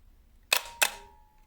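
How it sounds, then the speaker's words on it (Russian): A Zenit film camera shutter firing at a 1/4 second exposure: two crisp mechanical clacks about a third of a second apart, close and distinct against a quiet background. "фотоаппарат сработал с задержкой"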